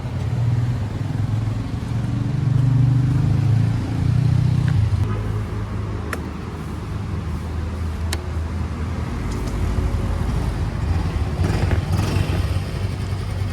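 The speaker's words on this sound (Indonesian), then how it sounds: "Dan beginilah suara dari mesin Yamaha Gear 125." Yamaha Gear 125 Ultima Hybrid S scooter engine idles nearby, a steady low rumble that rises briefly early on, then settles, with a few sharp clicks and faint road noise around it.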